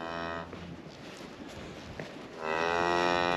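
Farm cows let out two long, loud moos, one at the start and a stronger one at the end, with quieter outdoor ambience between them.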